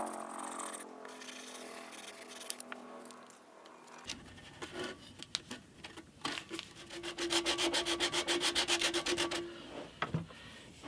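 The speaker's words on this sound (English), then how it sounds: "I'm going to apply some sandpaper to that" Sandpaper wrapped on a large curved sanding block rubs over the wood of an acoustic guitar end block, starting quiet, then breaking into a close, loud burst of quick rhythmic back-and-forth strokes.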